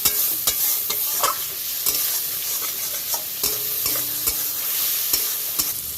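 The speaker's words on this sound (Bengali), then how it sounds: "এবার খুব ভালো করে কষিয়ে নিতে হবে সব উপকরণগুলো, যাতে কোনো কাঁচা গন্ধ না থেকে যায়" A spice mixture for cabbage curry fries in a pan with a steady sizzle, while a spatula scrapes and stirs it in repeated sharp strokes.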